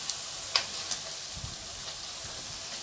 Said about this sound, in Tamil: இது நல்லா வேகட்டும், வெந்த உடனே திருப்பி போட்டோம்.